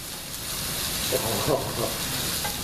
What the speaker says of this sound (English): That's the sound a pan should make when you cook meat, every time.